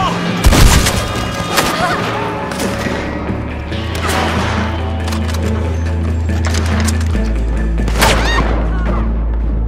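A chaotic burst of gunfire with heavy booms and scattered shots over a constant low droning hum, loud and dense, with shouting voices mixed in.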